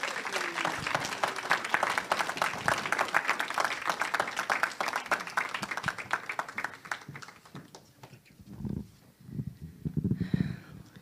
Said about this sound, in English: let's greet Annastasia with applause.